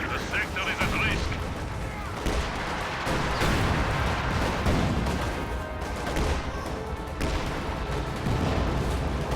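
Artillery fire booms repeatedly in a Company of Heroes 2 battle, with loud, dense blasts and rumbling explosions that overlap throughout, while a voice talks over the barrage.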